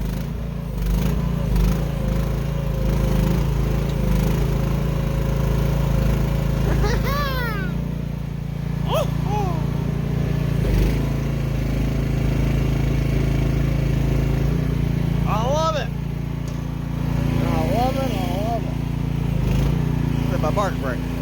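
A mini excavator's diesel engine runs steadily as the machine tows a trailer on a fitted hitch, a loud continuous low drone with occasional rising whines from the hydraulics and faint voices in the background.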